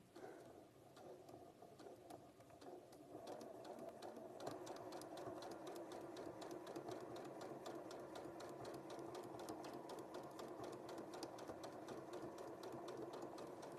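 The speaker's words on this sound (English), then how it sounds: "There's something very nice about the rhythmic sound of a sewing machine, isn't there?" A sewing machine runs steadily with a fast, rhythmic mechanical clatter that picks up after a few seconds and continues at an even, close-up level.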